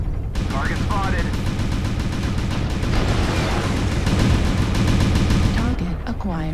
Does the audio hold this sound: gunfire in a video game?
yes